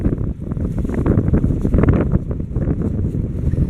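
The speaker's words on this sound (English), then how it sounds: "The wind is killing me" Heavy wind buffeting the microphone on a motorcycle ride through the countryside of Cebu, Philippines, a loud, continuous low rumble with gusty surges and no voices.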